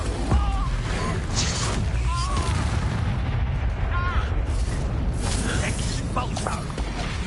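Spell blasts from Expulso going off in Hogwarts Legacy, a steady dense rumble of bursts and booms with combat noise throughout, loud and continuous, with occasional shouted voices over the din.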